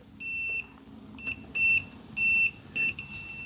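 A multimeter set to continuity beeps on wood chipper wiring. There are several short, clear electronic beeps at a steady high pitch, in irregular bursts, close by with a quiet background.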